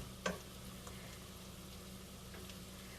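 Potatoes fry in a pan on a stovetop, giving a steady low sizzle and crackle throughout, with a brief clink of a silicone spoon near the start.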